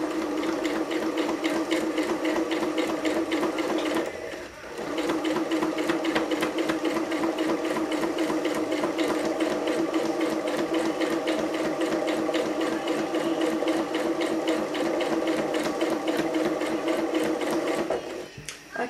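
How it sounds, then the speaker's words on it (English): A sewing machine stitches fabric for a cushion, running steadily in a fast, even mechanical rhythm. It pauses briefly about a quarter of the way through, then resumes and runs on. "just use your guideline on the sewing machine"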